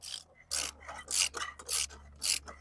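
A Craftsman rotating ratchet loosens a bolt in five quick bursts of rasping, ratcheting clicks, close and distinct, separated by brief pauses.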